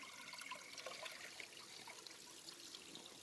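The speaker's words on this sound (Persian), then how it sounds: "این چشمه که از دل این کوه در میاد" Clear water from a spring flowing out of a mountainside trickles and splashes steadily and close by, with no voices.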